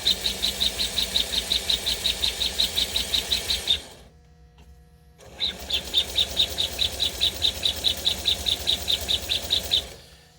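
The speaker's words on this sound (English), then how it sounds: "As you can hear, we have a wheezing smoke unit or choo-choo unit." A Lionel American Flyer Northern model steam locomotive with a smoke unit chugging with a rapid rhythmic wheezing puff, running steadily, stopping briefly, then starting up again at the same pace.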